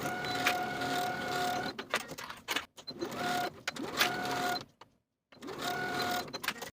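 A sewing machine runs in steady bursts while stitching the shoulder seams of a tie-front blouse, its close, even whir stopping briefly several times and falling silent for a moment near the end before starting again.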